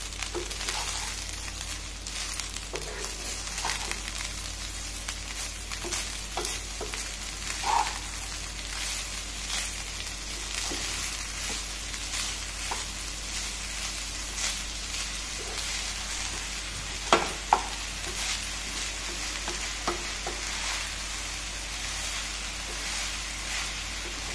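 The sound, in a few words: sugar being sautéed and stirred for sweet coconut rice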